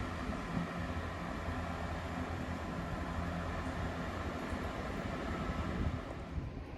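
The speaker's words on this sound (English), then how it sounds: "there goes 165038 to London Marylebone from Banbury" Chiltern Railways unit 165038, bound for London Marylebone from Banbury, rumbling past at Princess Risborough with a steady, fairly faint roar blended with wind buffeting the microphone.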